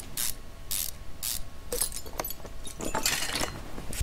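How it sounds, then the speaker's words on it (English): Crankshaft bearing caps going in during Car Mechanic Simulator 2015, a series of short metallic ratchet clicks and clanks in quick bursts, crisp and close with no talking. "let's put in these crankshaft bearing caps"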